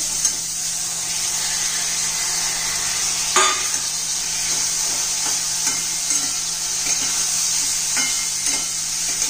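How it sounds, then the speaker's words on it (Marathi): Green mung beans roasting and being stirred with homemade spice mix, coriander powder and turmeric in a pan, a steady sizzling hiss broken by occasional scraping stirs, close and continuous. "ते चांगले व्यवस्थित भाजून घ्यायचे, परतून घ्यायचे जरा 1 मिनिटभर"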